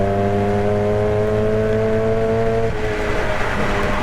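Mazda MX5 race car on track at Snetterton, its engine note holding steady then dropping in pitch as it shifts down to second, loud and close with continuous mechanical roar throughout.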